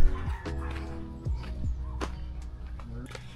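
Ducks at a family trip stop in Agusan and Surigao, Philippines, give clucking, quacking calls in short bursts over steady low rumble, with people talking nearby.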